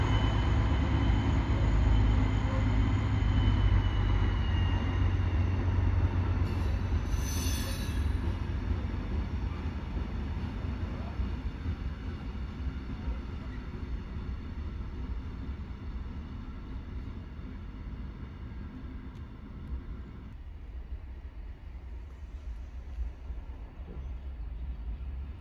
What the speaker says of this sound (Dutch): De diesel sleept de trein een stukje richting Kolscheid